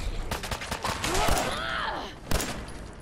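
Gunshots in Fallout 4 as feral ghouls are shot in the torso, a burst of sharp reports early and another loud crack later, amid ghoul groans and game sounds.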